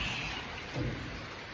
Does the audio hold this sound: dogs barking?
no